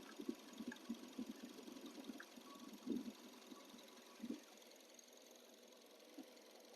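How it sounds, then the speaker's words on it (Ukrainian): A 2009 Mazda with a 1.5-litre petrol engine and automatic gearbox idles low and steady with faint irregular knocks and thumps, fairly quiet and even throughout, no voices. "Чуєте роботу двигуна. Просто ідеально."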